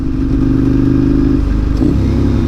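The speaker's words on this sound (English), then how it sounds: "it makes the bike sound a hell of a lot thumpier and a lot growlier than what it usually does" Motorcycle engine heard from inside an Arai RX7-V helmet while riding, a steady loud thumpy, growly drone with low rumbling tones that shift slightly as the revs change.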